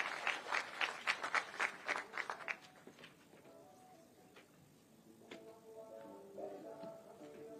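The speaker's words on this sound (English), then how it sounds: "A round of applause as he comes to the stage kindly" Applause at a formal event in Kenya as a guest comes to the stage, with a few seconds of claps and cheering, then a quieter crowd murmur.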